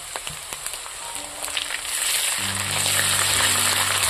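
Garlic and ginger paste frying in a pan, a broadband sizzle that starts faint and swells louder about halfway through, with a steady low hum running underneath.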